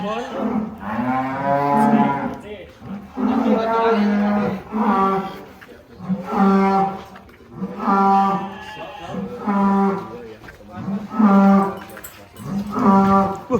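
A cow moos again and again, loud and close, about nine drawn-out calls in a steady rhythm with brief gaps.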